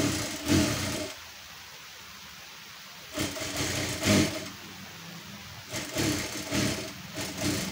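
A sewing machine stitches a folded strip onto the back of a blouse in three bursts of steady whirring, separated by short quiet pauses.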